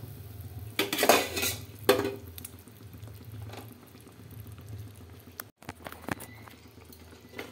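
Fried potatoes go into a boiling thin hilsa fish curry, with two sharp utensil clanks against the pot, then softer clinks over a low, bubbling simmer.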